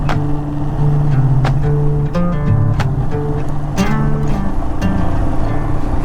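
A motorcycle rolls over gravel while camping in Texas. A steady engine hum runs under scattered crunching and clattering bursts from the loose stones, close and fairly loud.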